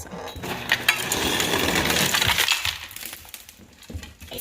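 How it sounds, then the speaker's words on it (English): Ice cubes tumbling out of a fridge ice dispenser, a dense rattling clatter of cubes for about two seconds, then scattered lighter clinks and dispenser hum, close and fairly loud. "start getting ice cubes out"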